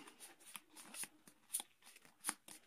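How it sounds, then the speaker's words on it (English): A deck of cards for the Ghost Stories board game is shuffled close by, quiet riffling and soft snapping in quick repeated bursts with faint crisp clicks. "We're just going to shuffle up"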